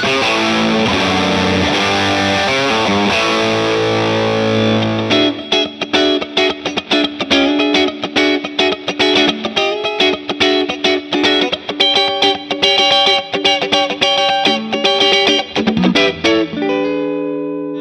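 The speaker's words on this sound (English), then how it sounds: "This Bruno mod is specially voiced for players wanting to add extra mid-range and punch to their leads and solos" Overdriven VOX Bruno TB18C1 tube amp guitar, with two 12AX7 preamp tubes, with a thick, punchy midrange: sustained distorted chords first, then a fast, rhythmic run of crisp picked notes.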